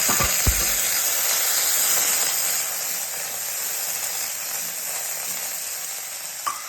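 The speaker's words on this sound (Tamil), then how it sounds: "நல்லா வதக்கணும் பருப்பு கருவேப்பிலை இஞ்சி போட்டுக்கணும்" Lentils, curry leaves and ginger sauté in a pan, with a loud, continuous close sizzle and hiss of frying, a couple of knocks from stirring at the start and end.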